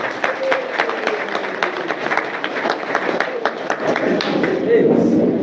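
Crowd at a pan-Africanist political rally in Koulikoro, Mali, clapping in a steady sustained wash that swells toward the end, with a voice speaking over the applause.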